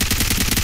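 Rapid automatic gunfire in the Ghost Hunt video game, a tight burst of evenly spaced shots at fast rhythm, loud and close, with no voices over it.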